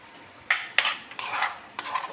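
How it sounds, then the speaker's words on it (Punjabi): A metal spoon stirs bitter gourd curry in a kadai, scraping and clinking against the pan in four or five separate strokes, close and clear over a faint sizzle, with no one speaking. "ਸਬਜ਼ੀ ਨੂੰ ਚੰਗੀ ਤਰ੍ਹਾਂ ਹਿਲਾਉਂਦੇ ਹੋਏ ਪਕਾ ਲਾਂਗੇ"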